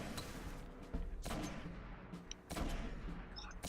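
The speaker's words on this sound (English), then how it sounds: "There we go, sniper rifle." Sniper rifle shots in the video game Destiny, a few loud, heavy reports spaced about a second apart over a dense rumbling background.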